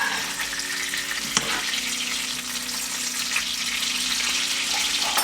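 A steak sizzles and spits loudly in a hot pan as melted butter is basted over it, a steady close frying hiss with a few sharp pops and light scraping.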